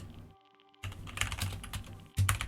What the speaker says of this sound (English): you want to add a new line, and you want to type YouTube